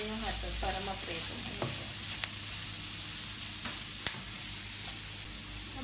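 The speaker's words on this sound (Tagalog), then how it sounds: "Ngayon muna natin yung hotdog para ma-prito." Hotdogs frying in a pan on a stove, a steady sizzle with occasional stirring clinks and scrapes, continuous and close, with no talking.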